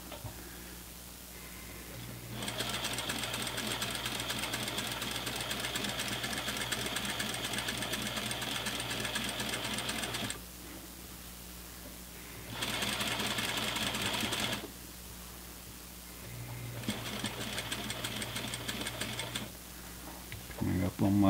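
Bursts of a sewing machine stitching elastic-back pants with double needles, fast even whirring runs separated by short pauses, close and clear.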